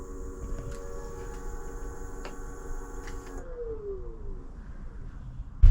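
An electric scooter motor whines steadily on thumb throttle, a thin tonal hum with faint ticks that cuts off and winds down, followed by a sharp knock at the end.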